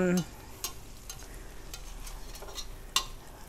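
Shrimp sizzle steadily in a frying pan, with a short scrape and clatter at the start as they are flipped and a sharp tap near the end. Faint, close kitchen sounds throughout, with no talking.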